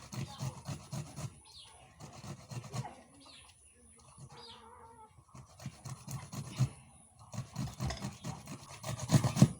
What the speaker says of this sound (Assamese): মই আম কাটি আছোঁ